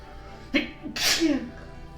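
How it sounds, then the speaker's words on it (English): A person sneezes close by: a short sharp burst, then a louder, fuller sneeze about half a second later, followed by a brief trailing breath. "Sorry, sneezed."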